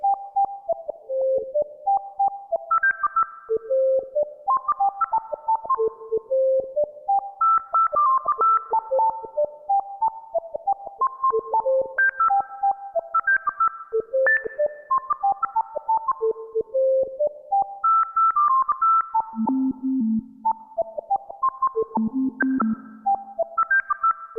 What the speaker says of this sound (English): Nice little whistling voice.